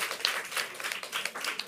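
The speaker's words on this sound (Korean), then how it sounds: "박수로 환영하겠습니다" Church congregation clapping in welcome during a service, a steady burst of close, dense applause filling the room without talk.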